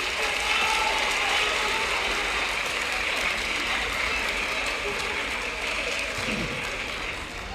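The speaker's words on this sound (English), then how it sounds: "Please, let's clap for them." A seated audience at a school science quiz competition applauds the contestants, a dense steady wash of clapping that holds for several seconds and then eases slightly.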